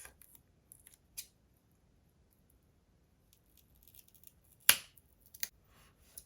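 Scissors cut through embellishment album pieces in a quiet room, giving a few faint snips followed by one sharp, crisp cut and a couple of lighter snips afterward.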